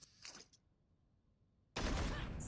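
A headshot in a Valorant tournament match cracks out as a sudden loud burst of gunfire near the end, following a brief faint shot-like crackle early on and a stretch of near silence.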